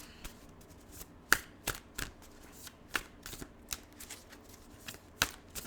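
Tarot cards being shuffled close by, a series of sharp riffling bursts at an uneven rhythm with short pauses between them, quiet and without talk.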